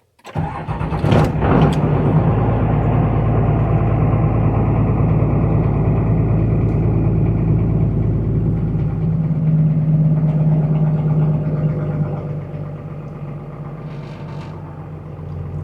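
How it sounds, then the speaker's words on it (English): A car engine cranks and catches with a burst of throttle near the start, then settles into a steady, rough low idle close by that sags slightly toward the end, with no talking. "Yeah, definitely not happy, idling way too low."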